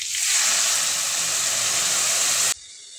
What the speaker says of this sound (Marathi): आता यात पाणी घालू.